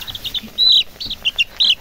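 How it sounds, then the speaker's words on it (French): A small black chicken chick, a cross of a red hen and a Cream Legbar rooster, peeps in rapid high chirps, close and fairly loud, with brief pauses between calls. "Un petit poussin noir."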